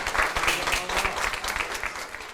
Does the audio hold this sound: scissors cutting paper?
no